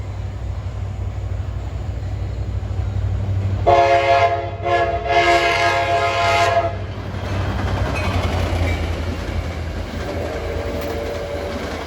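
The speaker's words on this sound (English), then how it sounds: "This should be train 57 for Port Jervis" An NJ Transit train passes Ramsey station on a hot evening rush, with a loud multi-tone horn blast lasting a few seconds followed by rumbling wheels on rail and a fading rolling clatter.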